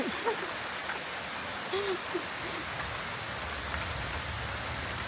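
Heavy rain on a rice-field hut patters continuously in a dense hiss, with faint scattered drops and a brief soft voice in the background.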